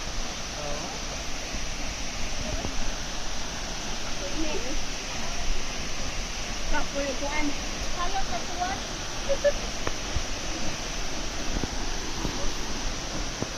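Manong Falls waterfall roars steadily as a dense, continuous rush of falling water, broad and unbroken for the whole stretch with no pauses.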